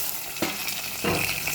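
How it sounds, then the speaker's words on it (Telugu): Hot tempering poured into tomato rasam sizzles in two sharp bursts, each hiss flaring loud and then settling into a crackling simmer close by, with no voices. "చూసారా, చారు పోపు పెట్టేస్తే అయిపోతుంది."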